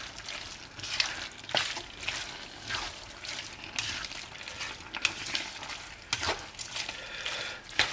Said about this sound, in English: So we stir that around.